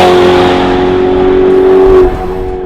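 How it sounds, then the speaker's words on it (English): A Ferrari 812 V12 fitted with a Novitec sports exhaust drones loudly and steadily at close range, holding a strong, even engine tone before easing off abruptly near the end, with no talking. "This one's also kitted out with our sports exhaust system, which will make that V12 rumble just a little bit louder."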